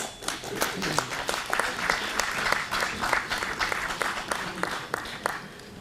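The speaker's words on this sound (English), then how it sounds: "Please welcome him with a huge round of applause." A large audience at a leadership summit and awards event gives a round of applause to welcome the session facilitator, many hands clapping in a sustained, even wash that holds steady for several seconds.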